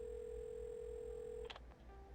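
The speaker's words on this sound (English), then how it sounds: "Oh, I actually have to dial." A steady dial tone in the video game Assemble with Care breaks off, and a few quick keypad tones follow as a phone number is dialed, faint and close over a low background hum.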